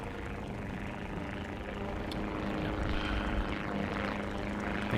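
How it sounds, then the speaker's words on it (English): A propeller-driven warplane drones overhead in War Thunder ground realistic battles, a steady engine roar that swells slightly toward the end, without voices. "I know I can hear a plane"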